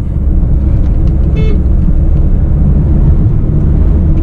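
A Renault Scala sedan cruises at 100 km/h in fourth gear around 2500 rpm, heard from inside as a loud, steady low engine and road rumble with faint passing noises.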